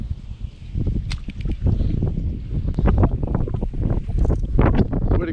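Strong wind buffets the microphone outdoors by open water on a cold, windy day out crawfish fishing, a loud continuous rumbling roar with gusty surges throughout.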